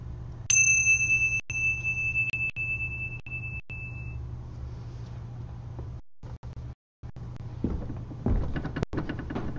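A ritual bell rings during a Gnostic Thelema Rosicrucian Mass, struck several times in a row with a clear sustained tone, over a low steady hum, then fading into quieter room sounds with some rustling.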